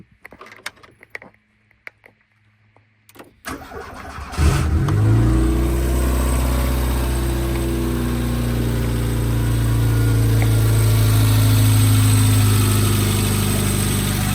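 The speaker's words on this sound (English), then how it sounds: "So we're going to go for a start on the key." Renault 5 Prima cranked on the key after sitting idle in a garage: a few quiet clicks, then the engine catches with a rev and settles into a steady, close idle, no talking.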